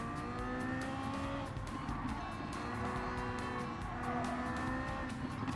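Porsche 918 Spyder engine in the racing video game Gran Turismo 7, a steady loud droning whine that rises and falls through gear changes, with faint tire squeal along a twisty circuit and no talk.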